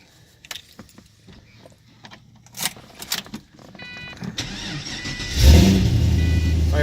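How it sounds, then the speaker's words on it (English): A supercharged car engine is started after a jingle of keys and some clicks, then catches with a loud rising rush and settles into a steady close idle. "Fires right up."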